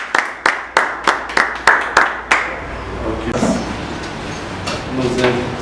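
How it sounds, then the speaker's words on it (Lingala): Sharp, evenly spaced claps ring out about eight times at close range, then fade into a murmur of room noise and soft voices. "Sous vos applaudissements."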